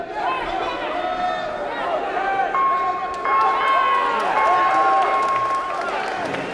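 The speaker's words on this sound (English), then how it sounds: "That deserves clapping" Spectators at an amateur boxing bout between Peter Lewison and Chadwick Allen clap amid crowd chatter and scattered cheers. The scattered applause sits under voices and a sustained whistle-like tone in a noisy arena.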